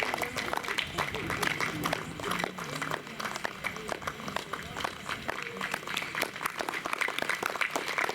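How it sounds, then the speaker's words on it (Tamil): A church congregation at a Tamil feast-day evening service claps to honour the priest, an uneven crowd patter that runs through the stretch beneath voices. "கைத்தட்டி தந்தை அவர்களை நாம் பாராட்டுவோம்"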